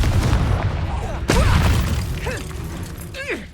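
The Confringo fire spell explodes in the video game Hogwarts Legacy, a heavy thudding boom with shattering debris amid ongoing combat noise, followed by fading whooshes and a fainter burst near the end.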